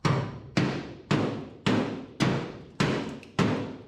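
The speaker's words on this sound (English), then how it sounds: "I might just beat on it and hopefully we don't lose too much rust" Seven heavy hammer blows strike the rusty fender of a 1976 GMC truck, evenly spaced about half a second apart, each a loud close metallic thud that decays quickly.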